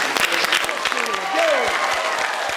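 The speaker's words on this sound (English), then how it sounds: "So I'd like to applaud you." An audience gives a round of applause, a continuous, fairly loud patter of many hands clapping, while a voice speaks briefly over it.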